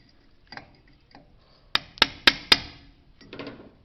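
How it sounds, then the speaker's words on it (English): A wheel bearing grease cap is hammered back onto the hub of a 1981 Ford F-150 with four sharp, evenly spaced metallic strikes, with a few softer taps and clinks around them in a quiet space. "Now we'll pound this cap back on."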